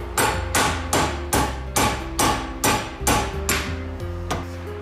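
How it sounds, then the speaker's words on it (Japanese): A plastic hammer taps a part loose from a disassembled EAGLE Konno claw-type hydraulic jack. About nine firm, evenly spaced knocks ring close and clear, with no talking. "軽くプラスチックハンマーでトントンと叩いていきます"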